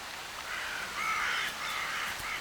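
Ravens gather near a carcass in the far north, giving a few harsh, raspy caws in short bursts over a low outdoor hush, fairly close and alone.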